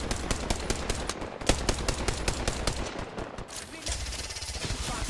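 Rapid video game gunfire from R99 and Hemlock weapons crackles in dense bursts during a shootout, loud and close, with sharp repeated shots over several seconds.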